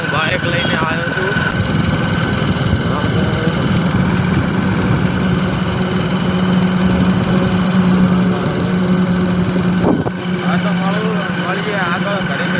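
A motorbike engine hums steadily while being ridden on a road in India, a continuous close drone with wind and road noise throughout, and someone talks over it.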